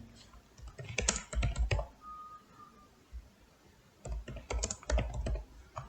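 Fingers type TypeScript code on a computer keyboard in two close bursts of rapid clicking keystrokes separated by a quiet pause, with no talking.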